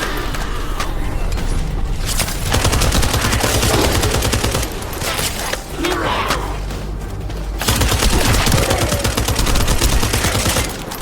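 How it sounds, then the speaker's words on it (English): Sustained gunfire in The First Descendant video game, dense rapid automatic bursts that rattle continuously and loudly, briefly dropping twice before resuming, with faint game sounds beneath. "That stopped the gunfire."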